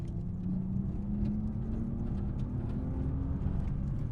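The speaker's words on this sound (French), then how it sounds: "Et le petit trou dans la boîte à air fait un petit bruit d'admission pas mal." Car engine running with intake noise from a small hole in its air box, a steady low droning hum with a slight rising tone, heard from inside the car at fairly even loudness.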